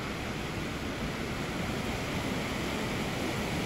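A swollen river in Agropoli rushes after rain, producing a dense, constant roar of flowing water, loud and steady without pause.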